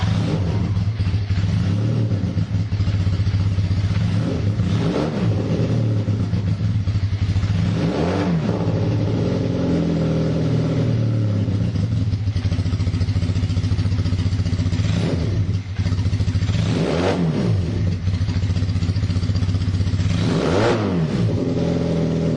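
A single-carburetor Kawasaki KZ440 motorcycle engine runs loud and close during carburetor tuning, holding a steady idle with several brief revs rising and falling at intervals.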